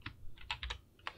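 A console command is typed on a computer keyboard: roughly seven quick, crisp keystrokes close to the mic, irregular but rapid, with no talking.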